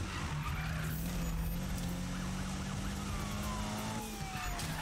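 Police sirens wail behind a fast car chase in Need for Speed 2015, with a steady engine roar throughout and rising and falling siren tones.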